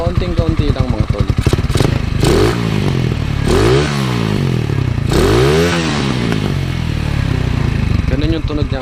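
A Kawasaki Z200 with a 51mm modified stock muffler is blipped by its rider: a near, steady idle burble broken by several sharp rising-and-falling revs, with someone talking over it.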